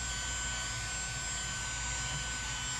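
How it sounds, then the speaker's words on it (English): A small handheld vacuum cleaner runs continuously while de-dusting a computer keyboard, a close, steady high-pitched whine with an airy whoosh and no pauses. "Little tiny vacuum cleaner for my keyboard."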